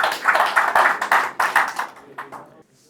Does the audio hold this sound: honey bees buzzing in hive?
no